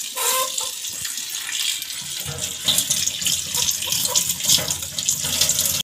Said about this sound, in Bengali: বরবটি আমি খুব ভালো করে ধুয়ে নেব।